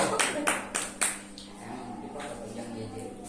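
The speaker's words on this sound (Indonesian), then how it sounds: "Kasih tepuk tangan dong." Classroom applause during a micro-teaching presentation, four or five sharp claps in a brief rhythmic burst over the first second, then fading into quiet room noise.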